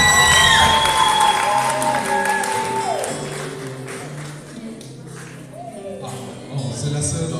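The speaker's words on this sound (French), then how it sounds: "Ok, applaudissons très fort." A crowd at a church book launch applauds, with dense clapping and some cheering mixed with voices and tonal sounds, loudest at first and then thinning under continuing chatter.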